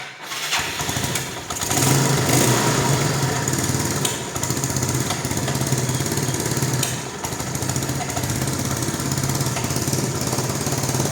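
Yamaha Mio scooter engine with a rusty ignition connector revving steadily, a loud continuous buzzing drone with a rough broadband rattle, close by and sustained throughout with no talking.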